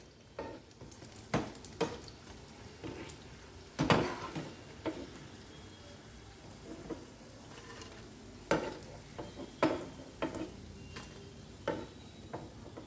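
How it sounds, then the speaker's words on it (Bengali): Egg pakoras fry in a pan of oil, giving a quiet, steady sizzle broken by scattered sharp clicks and utensil taps, with no talk. "একটু হালকা লাল করে ভেজে নেবে।"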